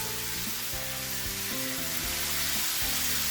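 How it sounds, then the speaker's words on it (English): Small shrimps dropped into a sizzling seafood paella pan, a steady close frying hiss running the whole time with a few soft stirring bumps, no voices. "Next in, I'm going to add some of the small shrimps"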